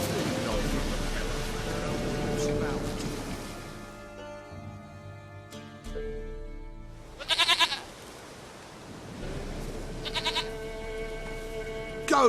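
A goat in the video game Witcher 3 lets out several loud, close bleats in separate bursts, spaced across the stretch over a constant background ambience with no talking.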